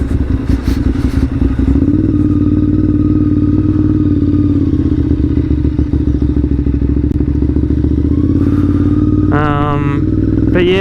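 A Ducati 659 motorcycle rides along with a loud, steady engine drone and wind roar, then slows and turns around, the engine note shifting near the end.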